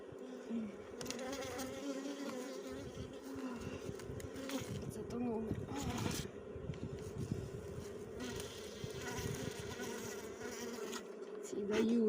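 Honeybees buzz around beehives in a dense, continuous drone that stays close and loud throughout, with individual bees flying nearer and then away.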